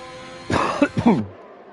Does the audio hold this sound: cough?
yes